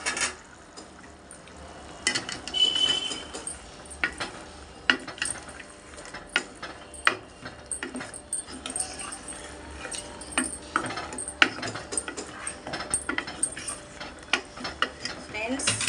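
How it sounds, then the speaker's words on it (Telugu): Chicken and raw mango curry being stirred in a pot, with repeated scraping and clinking of a utensil against the metal in an irregular rhythm, close and fairly steady throughout, with a faint sizzle underneath. "ఒకసారి కలుపుదాం."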